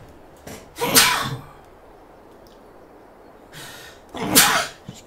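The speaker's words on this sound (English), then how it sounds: "Excuse me, I'm going to sneeze." Two sharp sneezes, each a short breathy burst with a quick intake before it, spaced a few seconds apart and heard close up over a quiet room.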